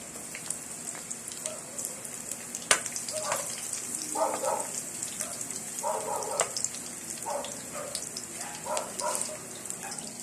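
Garlic frying in a small amount of cooking oil in a pan, with a steady sizzling hiss and scattered popping crackles throughout, heard close with no talking.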